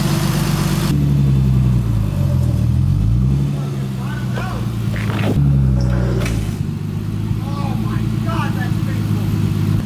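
A freshly rebuilt forged turbo M50 engine in a BMW E30 drives loud and close, its steady drone rising and falling with throttle and punctuated by brief whooshing bursts, while people talk over it throughout.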